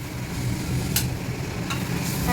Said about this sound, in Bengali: এই দেখো এখানে উচ্ছেটা ভেজে নিচ্ছি